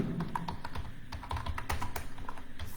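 Rapid, close typing on a computer keyboard during an HTML web design lesson, a dense run of light clicking keystrokes with brief pauses and no voices.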